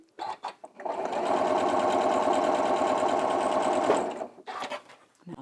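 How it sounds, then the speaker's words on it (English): A sewing machine stitches an accurate quarter-inch seam with a 1.8 stitch length on a Dresden plate quilt block, running a steady rapid whir for about three seconds between brief handling noises, close by. "you want to sew an accurate 1/4 inch seam"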